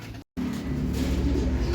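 Pigeons coo in a loft in a short, close burst of soft, rolling low calls over a steady background hum.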